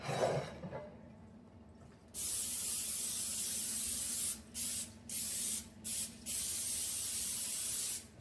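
Cooking spray hisses onto a cake pan held over a sink: a short early burst, then a long steady spray broken into several quick spurts near the end, close and loud with no talking.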